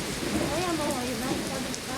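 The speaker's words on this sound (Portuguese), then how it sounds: "tá chovendo pra caramba pra cá" Heavy rain pours down steadily in a dense, unbroken wash, with a faint voice in the background.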